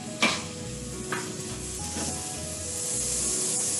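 Mushrooms and garlic sautéing in a pan, a quiet steady sizzle broken by a few sharp scraping stirs near the start and middle.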